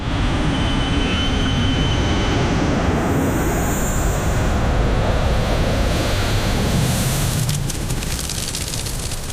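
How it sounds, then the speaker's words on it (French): Low-flying airplane passing over a beach, a loud, steady broadband roar blended with crashing surf that holds for the whole stretch, swelling slightly toward the end. "Tu as l'avion qui te frôle la plage, même qui te frôle la tête."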